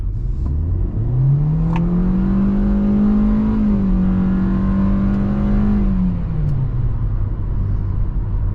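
A 2022 Hyundai Accent with an automatic transmission in sport mode accelerates, its engine note rising steadily into a loud, sustained drone, holding there, then easing off as revs drop. No one speaks.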